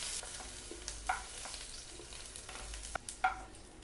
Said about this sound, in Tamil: ஏன்னா இது கேப்சிகம் வந்து குயிக்காக வெந்துடும். இப்போ நல்லா ஃப்ரை ஆகிடுச்சு.